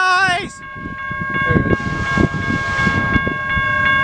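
A Canadian National freight train passes a railroad crossing, its horn sounding in strong sustained tones over the rumble and clatter of cars rolling by nearby, with crossing-bell pings and someone speaking briefly.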